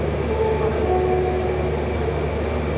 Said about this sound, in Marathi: ट्रेन बघा